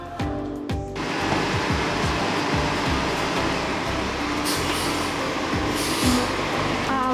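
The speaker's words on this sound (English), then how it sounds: "I hear a bus coming right now" A bus pulling in at a Disney World bus stop, a loud low engine rumble with a hiss of air brakes and rising whine, close by and continuous after a brief quieter moment.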